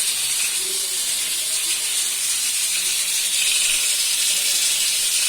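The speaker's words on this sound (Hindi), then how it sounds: "साथ में हम थोड़ी सी बोटियां भून रहे हैं" Beef pieces frying in a pan for a Pakistani beef trotters dish give a steady, loud sizzling hiss that holds constant throughout with no talk over it.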